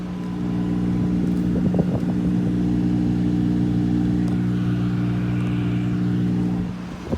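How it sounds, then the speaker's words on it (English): A 2011 BMW 750Li engine with a cylinder 5 misfire runs steadily up close, giving a loud droning hum with layered low harmonics and a faint uneven roughness, alone without speech for about seven seconds. "Number 5 cylinder misfire and spark plug."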